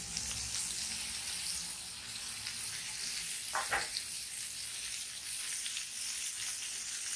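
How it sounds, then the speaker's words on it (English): Burger patties sizzling on a hot griddle outdoors near traffic, a steady crackling hiss throughout with a brief louder burst partway through, with faint background traffic noise. "the sizzle of the burgers"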